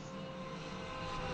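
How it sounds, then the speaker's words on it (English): Race car engines at Monza in the Le Mans Ultimate racing game, a steady high-pitched whine of multiple cars at speed that holds throughout and swells slightly toward the end, with no talk. "Do like the sound of that engines."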